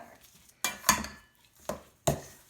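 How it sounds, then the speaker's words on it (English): A mixing spoon works through ground turkey meat and eggs in a bowl, making four close, sharp clacks and scrapes against the dish spaced unevenly across a short quiet stretch. "I take a nice good mixing spoon and I just start to break the meat up, break up the eggs and mix it all together"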